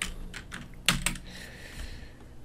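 Quick clatter of fingers on a computer keyboard close up, a few light taps and two sharper key strikes near the middle, then quieter scattered keystrokes against a faint background hum.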